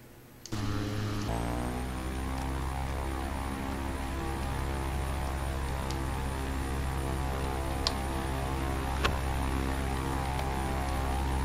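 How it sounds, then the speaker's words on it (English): An IAI 201 Arava turboprop engine in a flight simulator starts up and settles into a steady droning whine, a constant tonal hum that stays loud and even throughout. "I want to hear the airplane. Yep, hear that turboprop whine."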